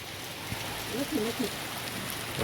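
Rain mixed with small hailstones falls in a summer storm in Bagasara, a steady dense patter with a few sharper ticks, while a voice briefly speaks over it.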